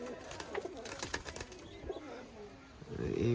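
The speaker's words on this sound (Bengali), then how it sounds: "এটা মনে হচ্ছে একটা লোকাল ব্রিড কবুতর" Local-breed pigeons coo softly nearby, with bursts of flapping wings and light fluttering, and a low rustle building toward the end.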